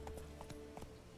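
Horse hooves clip-clopping in The Witcher 3, a quick run of distinct hoof strikes in an even trotting rhythm, fairly faint under steady game ambience.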